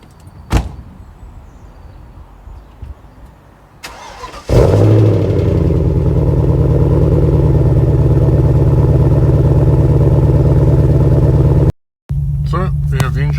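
An Audi RS6 engine cranks and catches, then settles into a loud, steady idle with a misfire, with a brief cut in the sound near the end.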